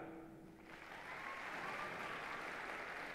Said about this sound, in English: Got the ability to clap.